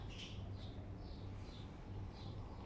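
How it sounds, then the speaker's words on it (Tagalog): Birds call outdoors near a stream with stones, giving a handful of faint, spaced chirps over a steady low background rumble, fairly distant and quiet. "Ang ingay ng ibon. Ayan. May ibon dito."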